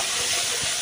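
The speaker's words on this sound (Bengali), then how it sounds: "দিয়ে একটু এটা নুন দিয়ে একটু ভাজা ভাজা করে নেব।" Tomatoes and slit green chillies fry with salt in a hot pan, giving a steady, close hiss of sizzling oil that runs throughout without pause.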